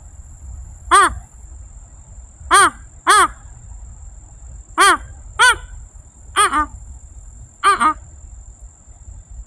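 Loud, harsh crow-like caws imitated by a person ring out, single and in quick pairs, spaced a second or two apart against a quiet background.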